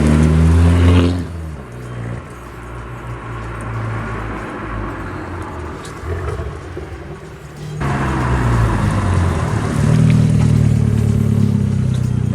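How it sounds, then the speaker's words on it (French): An Abarth car's engine roars loudly in a tunnel, a deep, booming drone that eases off briefly and then swells again into a heavier, sustained rumble. "Un bruit d'enfer qu'on ne retrouvera plus jamais sur les véhicules de nos jours."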